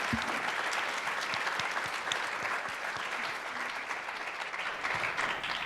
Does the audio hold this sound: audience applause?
yes